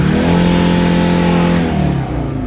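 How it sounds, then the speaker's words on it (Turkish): A car engine held at full throttle during a vehicle inspection test gives a loud, sustained high-revving drone that stays steady, then dips and settles lower toward the end. "Bir daha tam gaz."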